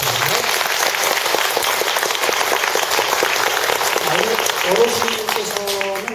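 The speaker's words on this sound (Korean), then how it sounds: "그분들에게 박수 한번 주세요" Steady, loud applause from a concert audience fills the whole stretch, dense clapping with some voices mixed in underneath and a brief tonal murmur near the end.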